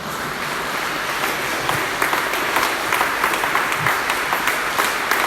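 A church congregation at a Spanish-language seminar on life in the Holy Spirit gives loud, steady applause that fills the room for several seconds.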